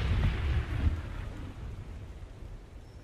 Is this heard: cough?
no